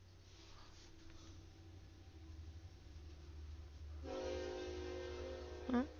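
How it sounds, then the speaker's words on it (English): A train goes by in the distance as a faint, low rumble that swells halfway through, with a sustained horn-like tone heard under the background. "Oh, there goes another choo-choo."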